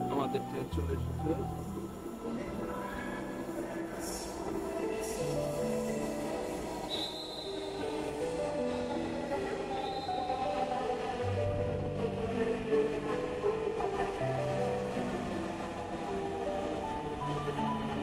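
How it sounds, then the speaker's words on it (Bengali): A metro train pulls into a station in Dhaka, bound for Motijheel, with a loud rumble, rising metallic wheel squeal and fluctuating tonal whine as it slows. People talk nearby under the noise. "ওই তো আমাদের ট্রেন চলে এসেছে।"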